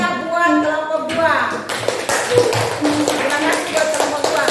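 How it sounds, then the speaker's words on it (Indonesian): Classroom of students claps for a student group after their presentation, a dense patter of hand claps with scattered voices mixed in, fairly close and steady throughout. "Berikan tepuk tangan yang meriah buat kelompok 2."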